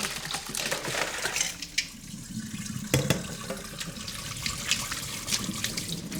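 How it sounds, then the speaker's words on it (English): Blanched broccoli being drained, water pouring and splashing steadily into a sink for several seconds, close and moderately loud with no talking. "And then I'm going to drain it and then put a sauce on."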